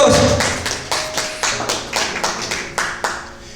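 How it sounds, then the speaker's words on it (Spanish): Loud, close rhythmic hand clapping from a church class congregation, about a dozen sharp evenly spaced claps with no talking. "Den un fuerte aplauso al Señor."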